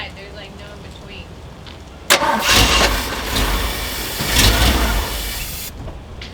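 A Jeep J10 engine that has sat for years, running on carb cleaner, catches abruptly, runs loud and rough for about three and a half seconds, then cuts out to quiet.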